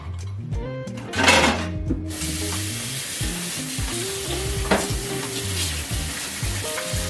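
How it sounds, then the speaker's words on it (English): A pan just used for cooking pancakes gets a quick rinse under running water, a steady close hiss and splash after a few clanks of the pan, with occasional knocks against the sink. "I'm using the same pan that I just used for the pancakes. We're just gonna give it a really quick rinse."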